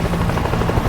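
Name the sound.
helicopter in video game World War Z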